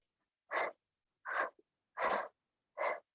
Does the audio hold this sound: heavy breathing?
yes